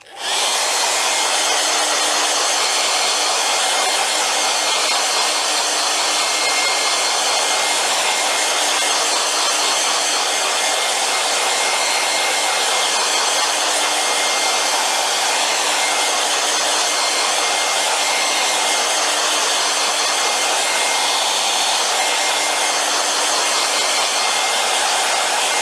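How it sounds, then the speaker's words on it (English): A blow dryer runs steadily for the whole stretch, drying a freshly painted portrait with a loud, even whoosh that holds without a break and has no talking over it. "So, blow dryer is going on now."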